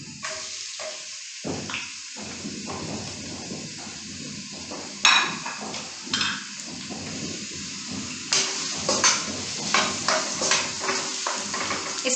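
Chopped onions frying in hot oil left over from frying okra for bhindi masala, a steady sizzle with scattered pops, clatters and stirring scrapes throughout, close and moderately loud, with no talking.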